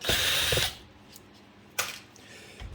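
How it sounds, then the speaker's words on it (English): Power screwdriver backing out the outer base screws of a Technics SL-1210MK2 turntable, two close, loud whirring bursts separated by a quiet pause, with a third starting at the end. "these are the outer screws we're just removing now"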